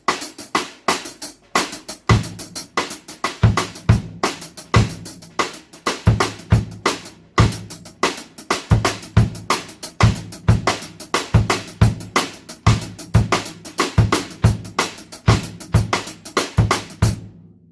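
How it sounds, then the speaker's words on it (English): A Latin backbeat bass drum pattern from a rumba-style clave groove plays with percussive hits in a steady repeating cycle, loud and close, with strong low thumps recurring at regular intervals and no talking. "the Latin bass drum pattern, which is the backbeat"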